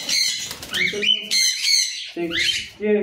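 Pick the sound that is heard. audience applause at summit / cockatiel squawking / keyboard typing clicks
cockatiel squawking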